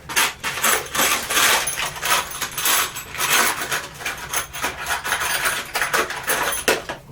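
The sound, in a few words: rummaging through loose screws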